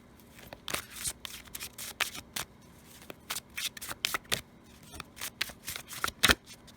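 Tarot cards shuffled by hand, a quick run of crisp riffling bursts and soft flicks, close and fairly quiet with no talk.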